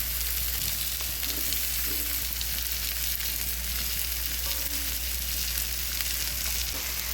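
Paneer tossed into a pan with fried potato and pointed gourd, giving a steady, close sizzle of frying with a constant low hum underneath and no voices.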